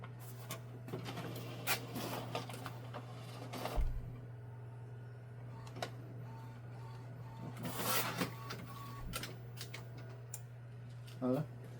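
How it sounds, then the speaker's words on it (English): Epson EcoTank ET-16600 inkjet printer running a nozzle check: a steady low mechanical hum with intermittent clicks, whirs and carriage shuttling thumps, fairly quiet and close. "I'm gonna run the nozzle check to make the carriage release."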